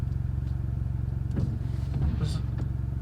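A Ford Fiesta Zetec S Black Edition fitted with a Cobra exhaust idles in neutral at about 1000 RPM, a steady low rumble with a faint pulsing beat running throughout, close by and even in level.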